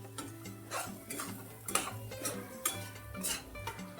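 Spiced besan bhurji mixture is stirred and scraped in a pan with a utensil. Soft scraping and clinking strokes repeat at an irregular pace, close and moderately quiet, with no voices.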